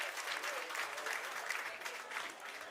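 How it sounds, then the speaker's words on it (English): An audience applauds women weightlifters leaving the platform at a British Open competition, a continuous even wash of clapping from a sizeable crowd. "please join me in giving these ladies a round of applause"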